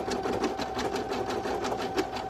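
A computerized embroidery machine sews an in-the-hoop stuffed toy, giving a steady, fast needle chatter with a soft repeating pulse, faint and close, with no voices.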